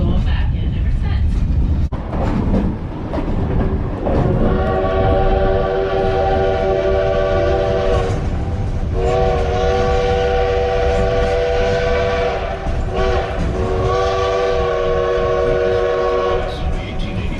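The 1880 Train, a passenger train between Hill City and Keystone, South Dakota, rumbles along steadily while its horn sounds in long, loud blasts, sustained and repeated over the continuous rolling noise.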